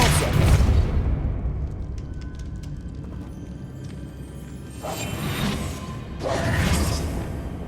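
The Depulso spell in Hogwarts Legacy fires off with a booming whoosh at the start, followed by two more swelling magical blasts that rise and fade, over a steady rumbling game background.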